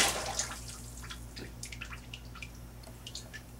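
Liquid pottery glaze is poured out of a pot, a soft splash settling into scattered faint drips over a steady low hum.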